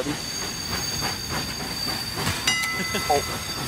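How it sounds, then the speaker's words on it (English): A train rumbles past in the Party Animals video game, a steady rolling clatter with a bright metallic squeal near the end, while players' voices chatter over it. "I just jumped over the fucking train"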